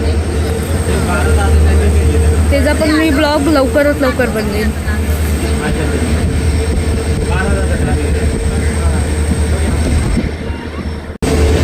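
The Mumbai CSMT–Dhule Express, hauled by a diesel locomotive, rolls through a station with a loud, steady rumble close by while someone talks over it, the noise cutting off abruptly near the end.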